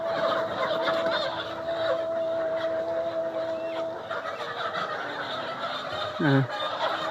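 Layer hens on a farm in Panchagarh, a busy barn ambience of many birds clucking and murmuring at a moderate distance, with a brief louder squawk near the end.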